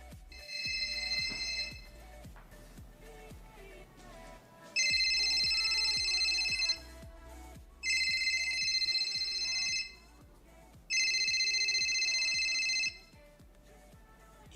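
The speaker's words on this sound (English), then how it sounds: "this is where he gets on the phone with Elon Musk." A phone ringtone playing from a video, three loud, bright repeating bursts of electronic ringing separated by short pauses, with a bassy musical bed running underneath.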